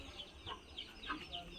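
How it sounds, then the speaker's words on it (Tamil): A chicken clucking in short repeated calls, faint and somewhat distant, with background noise throughout. "இந்த கோழியை பாருங்களேன்"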